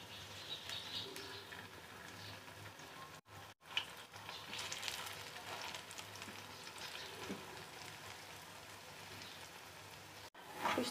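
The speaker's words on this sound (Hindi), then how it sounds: "हम इसमें जो है अपने सोया के कबाब जो हैं वो फ्राई करेंगे" Soya kebabs shallow-fry in ghee with a faint, steady crackling sizzle like light rain, heard close and continuous with a couple of brief dropouts.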